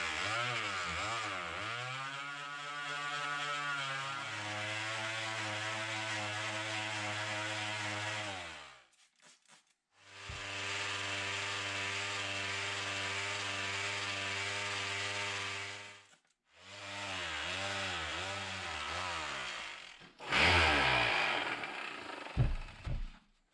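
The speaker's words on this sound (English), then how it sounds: "Well, this sander is not working for me." A power sander whines loudly up close in long bursts, its pitch sliding as it spins up and slows, with short pauses between runs and no talking.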